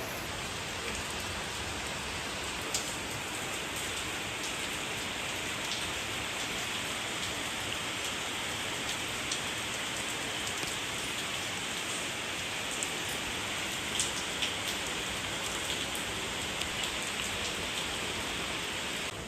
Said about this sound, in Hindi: ये देख, बारिश हो गई